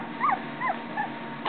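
A puppy gives three short, high, whiny whimpers in a row, close and fairly clear, over a faint steady background hum.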